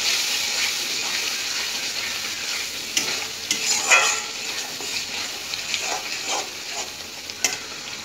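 Paneer masala with yogurt fries in oil while being stirred, a continuous close sizzle broken by wet scraping strokes and bubbling bursts that come more often toward the end.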